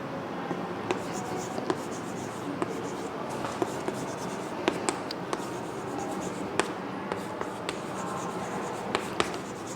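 A pen scratches across paper during a math class, with continuous close scribbling strokes and small taps, fairly quiet and steady.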